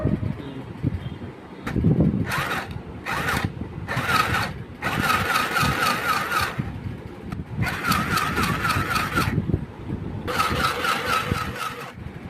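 A sewing machine stitches saris in repeated bursts of rapid mechanical whirring, each run lasting a second or two with brief pauses between, over a low background rumble.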